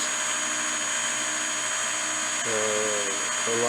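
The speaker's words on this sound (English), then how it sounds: "I usually don't add a lot of pressure to the drilling of these" A power drill bores out rivets on a '70 Chevelle SS with light pressure, a steady high whine bursting in briefly twice near the end over a continuous mechanical hum.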